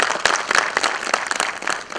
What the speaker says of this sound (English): I think we should all have to clap him for this.